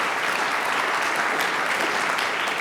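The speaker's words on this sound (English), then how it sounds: "Can you give them a round of applause?" Audience at a carbon-to-value initiative kickoff event applauds the partner organizations, a dense, even wash of clapping that holds steady from start to finish without talk.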